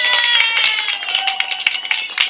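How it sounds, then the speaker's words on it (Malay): An indoor audience at a talk claps together loudly and continuously, with a few louder individual claps standing out and faint tonal background sounds. "Tepuk lagi sekali."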